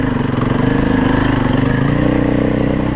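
A four-stroke KTM 500 dirt bike engine on slickrock runs loud and close with a continuous, buzzy throttle drone that pulses slightly as the rider modulates the revs.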